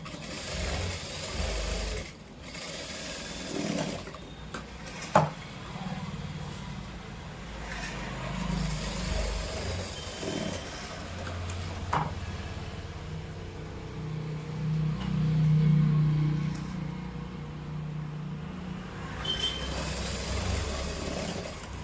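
Over a low hum, a sewing machine stitches pleats on a cross-cut blouse in soft, quiet runs. The stitching is broken by a few sharp clicks and short pauses.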